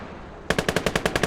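Machine gun fire in the WWII game Gates of Hell: after a half-second of quiet, a fast, loud, evenly spaced burst of about nine sharp reports rattles off in steady rhythm.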